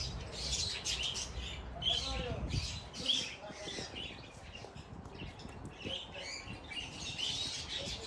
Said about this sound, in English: Take a look at these budgerigars. There are so many of them, and they're quite noisy